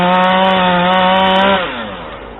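A Husqvarna 440 chainsaw with an 18-inch bar and X-Torq engine runs loud and close through wood, holding a steady high whine before the pitch drops as the cut finishes.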